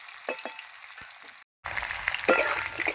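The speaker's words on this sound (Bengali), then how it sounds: "আলুগুলো ভালো করে নাড়াচাড়া করে আমি ভেজে নেব লাল লাল করে আলুগুলো ভেজে নেব" Cut potatoes fry in a pan for a fish dish, a crackling sizzle interrupted briefly, then returning louder with stirring scrapes and clinks, close and clear with no talking.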